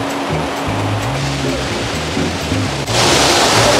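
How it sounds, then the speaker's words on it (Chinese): Waterfall water at Pok Fu Lam, Hong Kong, makes a steady broadband rush heard from a distance, with a low tonal hum underneath, and it swells louder and brighter near the end as the falls come closer. "离远咧，就已经听到瀑布嘅水流声啦"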